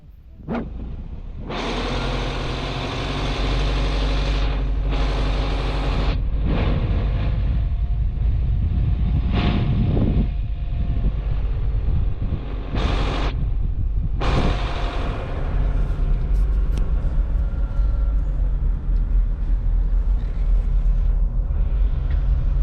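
A 4WD vehicle in four-high hauls a Cruise Craft boat on its trailer up a ramp out of the water, its engine a loud, steady, close rumble with a few sharp revving surges and bursts of mechanical noise.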